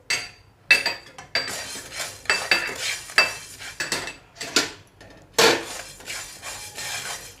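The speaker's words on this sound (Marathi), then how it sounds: "आता आपण ही मेथी भाजून घेऊया" Fenugreek seeds being roasted in a pan while making a sweet and sour raw mango pickle, with repeated close metallic scrapes and clinks of a spoon against the pan in an irregular rhythm.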